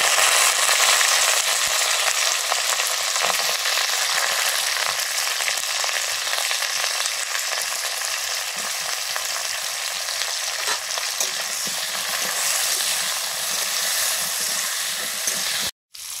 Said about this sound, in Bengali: শুকনো লঙ্কা, পরপর সব সবজিগুলো দিয়ে দিচ্ছি। আলু, ফুলকপি